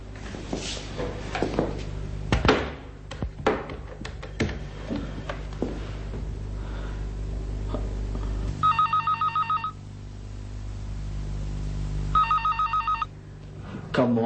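Two bursts of a telephone bell ringing in a domestic drama scene, each a rapid trilling ring of about a second, separated by a pause, over low room ambience with scattered thumps and movement noises beforehand.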